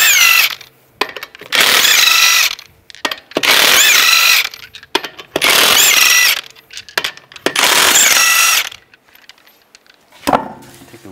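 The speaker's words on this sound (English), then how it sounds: "remove the lug nuts." Lug nuts come off the rear wheel of a 2010-2017 Chevrolet Equinox with a 22 millimeter socket: four loud, close bursts of tool whirring, each a couple of seconds long, separated by short quiet gaps and small clicks.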